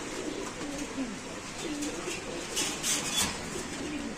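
A Lahori pigeon coos softly at a pigeon market stall, with low, rolling calls that repeat through the whole stretch. A little background noise sits beneath them and there is faint talk.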